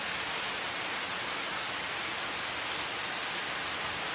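A rain sound effect played during a bHaptics haptic vest test in a PC VR game, a constant even hiss of falling rain, steady and fairly quiet with no talking.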